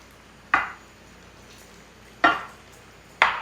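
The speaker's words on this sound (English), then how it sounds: "Give this a little stir." Lemon juice with zest in a pan is stirred three times, each a short, sharp scrape of utensil against the pan standing out from a quiet background.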